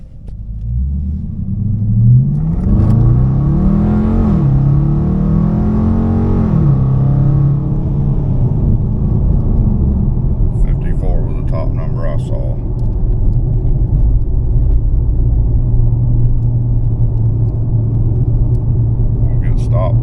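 A car accelerates hard on a road, its engine note climbing through rising revs in the first few seconds before settling into a steady loud road rumble, with faint clicks later on.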